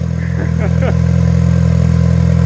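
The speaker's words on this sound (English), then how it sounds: "And it's loud as hell because it's open downpipe." An ST-swapped Ford Focus sedan engine running with an open downpipe makes a loud, steady, rough drone close by, with excited voices over it.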